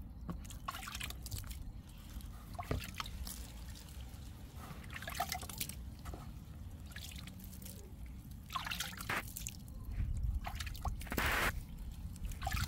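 Water sprayed from a spray bottle onto lettuce growing in indoor containers, heard as repeated soft dripping and trickling bursts over a steady low background hum, close and fairly quiet with no talking.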